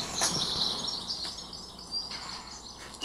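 Garden birds sing in an outdoor field recording, with faint high chirps and short calls scattered over soft background ambience and no voices.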